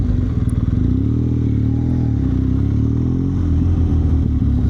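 A new KTM 1290 Super Adventure S motorcycle idles at a dealership, a loud, steady low engine rumble with a slight rise and fall in revs, close to the microphone and with no talk.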